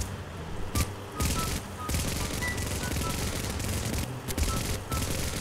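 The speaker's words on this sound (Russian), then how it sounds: "кстати, я просто стреляю" Rapid automatic gunfire in the Garry's Mod sandbox game, with dense bursts of shots rattling continuously in several sustained volleys at close range, loud and unbroken by pauses longer than a moment.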